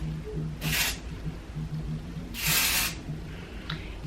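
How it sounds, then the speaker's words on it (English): Overnight hair repair spray hisses from a bottle in two short, close bursts a couple of seconds apart, over a quiet room hum. "you shake it up and then you just spray it in your hair"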